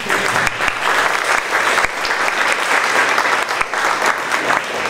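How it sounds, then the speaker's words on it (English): An audience at a film presentation gives a round of applause: dense, sustained clapping from many hands, loud and close, with no talk over it. "give him and his team a round of applause"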